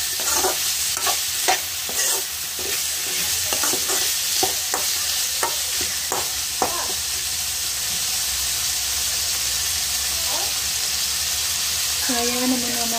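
Potatoes sizzling loudly in a hot pan while a spoon scrapes and stirs them in quick strokes, with a hissing, steaming background throughout.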